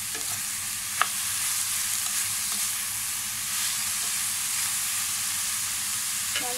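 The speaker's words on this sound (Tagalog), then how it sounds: "Haluin natin." Sautéed bitter gourd stirred in a pan, a soft, continuous sizzle with a faint steady hiss and a few light scraping clicks of the spatula, fairly quiet and without talk.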